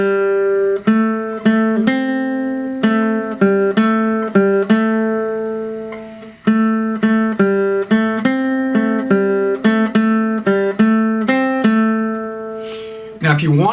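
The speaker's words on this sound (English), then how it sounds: "So here's how blues lick goes." Guitar lesson demonstration of a blues lick played as a steady sequence of plucked notes, clear and close, sounding alone without talk.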